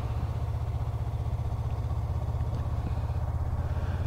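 A motorcycle engine runs at a steady low rhythmic thrum as a beginner rider eases on some throttle, the pulsing exhaust close and even throughout with no sharp rise in pitch.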